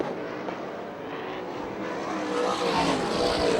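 360 sprint cars racing on the Manzanita Speedway oval at a USAC/CRA sprint car event, a broad steady engine roar from the pack that swells slightly louder toward the end, no talk.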